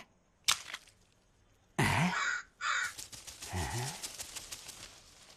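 A crow caws loudly nearby, a few harsh calls in separate bursts against a quiet background.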